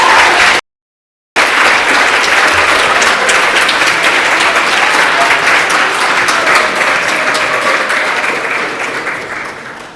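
A crowd applauds loudly and steadily at an election results announcement, a dense wash of clapping that carries on for most of the stretch after a short dropout near the start, then slowly thins toward the end.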